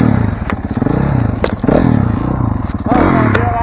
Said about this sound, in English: Alright, I'm gonna take off with clutch.